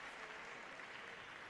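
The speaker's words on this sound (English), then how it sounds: "Now the applause starts as they near the end of the fight." Applause from spectators at a women's sabre fencing gold medal bout in Turin, a steady wash of clapping heard at a distance with no talk over it.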